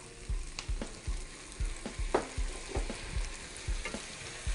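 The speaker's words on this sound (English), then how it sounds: "Now we're going to continue to saute this for 5 minutes until the apples have lost a lot of their moisture and half of their volume" Apples sautéing in a pan with sugar, cracked black pepper and maple syrup: a close, continuous sizzle broken by regular scraping stir strokes, about two per second, with no speech.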